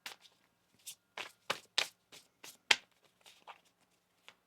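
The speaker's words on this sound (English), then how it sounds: "One more shuffle here." Tarot cards are shuffled in a quiet room: a faint series of soft, irregular riffling taps and card slaps, close by and with no voices.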